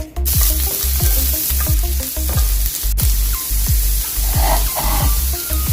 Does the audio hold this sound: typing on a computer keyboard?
no